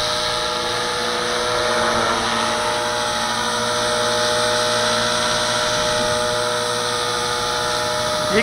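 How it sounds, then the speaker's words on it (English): Walkera V450D01 RC helicopter flying in wind, its motor and rotors giving a continuous loud, high whining drone with steady pitch throughout, heard close and unbroken. "You can hear that engine roaring."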